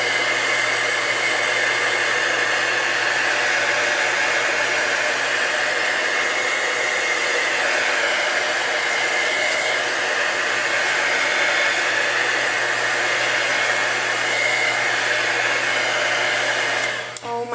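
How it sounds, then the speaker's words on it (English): A heat tool blows steadily and loudly at close range, setting freshly applied shimmer paint with a continuous airy roar that holds unbroken for the whole stretch before cutting off at the very end. "since I have my heat tool out here, I'm just going to go ahead and heat set it"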